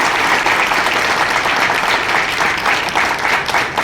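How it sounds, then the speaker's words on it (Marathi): A full hall of people claps heartily during a speech at a function for the Shivshambhu old age home, the thick, steady applause continuing unbroken and loud throughout. "आता मध्ये मध्ये तुम्ही टाळ्या वाजवाल एवढं मी प्रोत्साहन तुम्हाला दिलेलं आहे त्यामध्ये वाजवत राहा"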